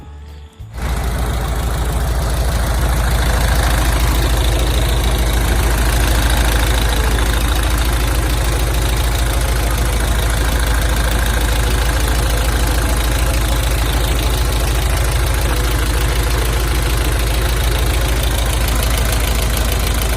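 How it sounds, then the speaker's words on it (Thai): A Hino FC 6-wheel dump truck diesel engine, 2002 model, idles loudly and steadily up close after a brief start, with a constant low rumble and rattling knock. "กลับมาฟังเสียงเครื่องครับผมกระสิบให้พี่น้องเข้ามาฟังเสียงเครื่องครับ"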